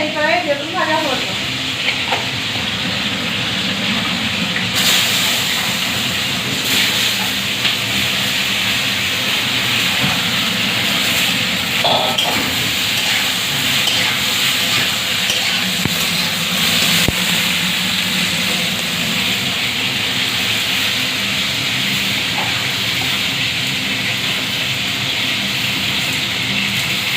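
Brinjal slices fry in a kadai in a home kitchen, giving a loud, steady oil sizzle with occasional stirring scrapes that runs without a break.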